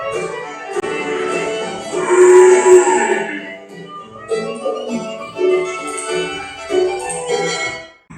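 A cow moos repeatedly in a clip played during a classroom lesson, several drawn-out lowing calls with pauses between them, fairly close and clear over faint background noise.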